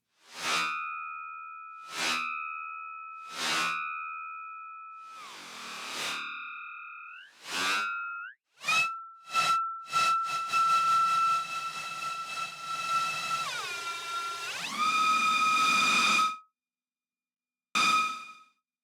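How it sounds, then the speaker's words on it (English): Short noise bursts from a no-input mixing board ring through a delay pedal, each leaving pitched, echoing tails that repeat and fade, then a sweeping swell of resonant echoes before stopping abruptly. "sending a noise burst to it through a channel on the mixing board"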